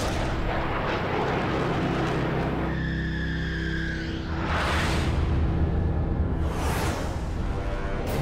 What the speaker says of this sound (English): Lethal 20-millimeter cannon shells arc through the night sky and shred the MiG.